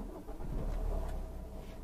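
A car engine starts up during a driving lesson, a low rumbling crank and catch that settles into a steady idle, close and moderately loud with no talk over it.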